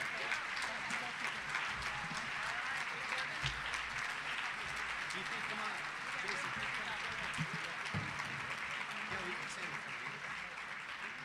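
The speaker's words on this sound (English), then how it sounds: "You can clap for these people." A crowd claps steadily and densely for several seconds, a continuous wash of applause with faint voices mixed in.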